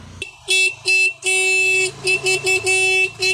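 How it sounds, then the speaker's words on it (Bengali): A toto e-rickshaw horn honks repeatedly in a dozen short and long blasts, loud and close, with a child's ride setting and faint background noise. "সমানে হর্ন দিয়ে যাচ্ছে"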